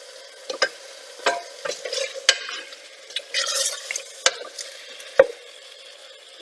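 Large potato chunks and other vegetables are stirred in a pot for Maltese pasta soup. Distinct spoon knocks and scrapes come close and clear over a light sizzle.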